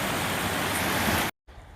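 Creek water rushing across a hiking trail on the Appalachian Trail, a loud steady broadband roar that cuts off abruptly near the end, then returns much quieter.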